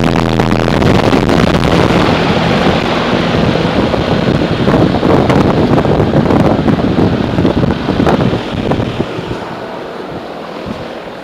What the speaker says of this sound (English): most of the noise is coming from the buffeting of the fan blades